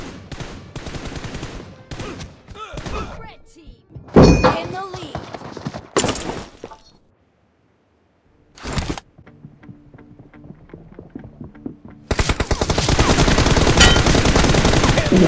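In the BGMI battle royale mobile game, loud automatic gunfire rattles in rapid bursts and long sustained volleys, broken by short pauses and quieter stretches, with a player's voice now and then.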